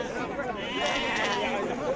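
Young lambs bleat at a Monday livestock market in El Hajeb, Morocco, wavering calls under busy crowd chatter and nearby talking.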